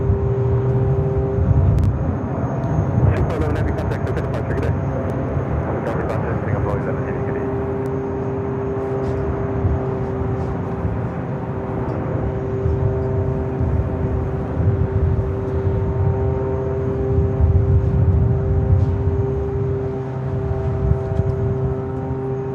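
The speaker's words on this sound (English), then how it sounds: "Let's go to our next heavy arrival, the flight coming from Tokyo Haneda." Heavy airliner arriving from Tokyo Haneda on approach at Los Angeles International Airport, a steady loud jet engine roar and rumble heard from the ground, with some background noise throughout.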